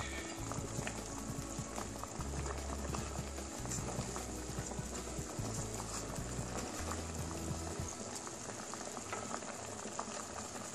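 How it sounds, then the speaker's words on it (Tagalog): Clam tinola soup boils steadily in a pot, a continuous close bubbling and gurgling with small popping bursts throughout, no voices. "Ayan. Pakuluan natin sandali."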